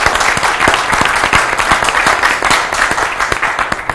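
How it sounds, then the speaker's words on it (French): Studio audience applauding on a French-language game show, loud and close, a dense steady burst of many hands clapping with sharp individual claps standing out throughout. "Ça s'applaudit."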